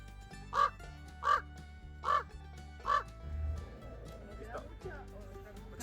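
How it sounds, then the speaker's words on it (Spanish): A crow calls four times in a steady, evenly spaced series of loud, harsh caws, followed by quieter outdoor background sound. "Muchas gracias, señor Cuervo."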